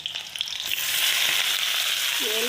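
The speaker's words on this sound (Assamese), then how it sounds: "এতিয়া মই ভাতকেৰেলাখিনি এইখিনি বহাই দিম।" Bitter gourd hits hot oil and bursts into loud, steady sizzling that swells and holds, with a faint scrape near the end.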